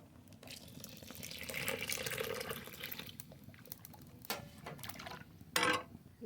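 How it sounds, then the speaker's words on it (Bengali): Water pours steadily from a tap into a pot of cooked dal for a few seconds, with a brief louder splash near the end, close and fairly quiet. "জল দিয়ে দেবো জল"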